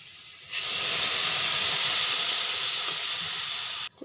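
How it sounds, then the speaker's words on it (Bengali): Water poured into a hot pan of frying vegetables bursts into a loud, steady steam hiss that lasts about three seconds, then cuts off abruptly. "জলটা দিয়ে দিচ্ছি"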